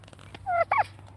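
A wild turkey gobbles outdoors, two loud, close rattling bursts in quick succession standing out over a quiet background hum, with no talking.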